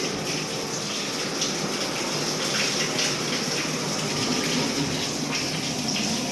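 Steady, loud rush of water pouring from a bath faucet, continuous and close, with no pauses or voices.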